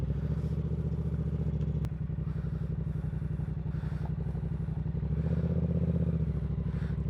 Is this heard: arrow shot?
no